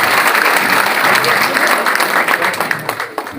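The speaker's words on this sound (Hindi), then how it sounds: "सातों ही लोगों के लिए जोरदार तालियों से आप उनका अभिनंदन करें, स्वागत करें।" A political gathering breaks into loud, sustained applause welcoming seven new party members, with cheering voices mixed in before the clapping thins out and tapers off.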